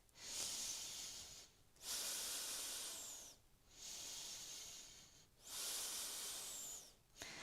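A yoga instructor breathes slowly and deeply while holding a pose: two long, airy inhale-and-exhale cycles, each separated by a brief pause, close to the microphone and steady, with no talking.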